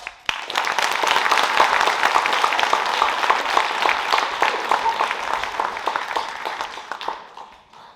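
An audience at a high school TED Talk event applauds as a speaker comes on stage, a dense, steady wash of many hands clapping close by that holds for several seconds, then tapers off and stops.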